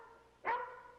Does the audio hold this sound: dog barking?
yes